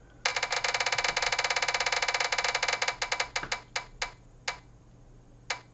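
A prize wheel spins with rapid, regular ticking that slows gradually, the clicks spreading further apart until a few final ticks as it comes to rest.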